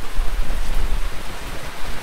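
Rain falls steadily as a dense, broadband hiss with fluctuating low rumble, loud and continuous, heard alone with no voices.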